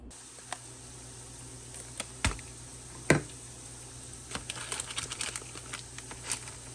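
Crispy homemade french fries crunching in a few sharp, scattered bursts, close by and fairly quiet, with a steady low hum underneath.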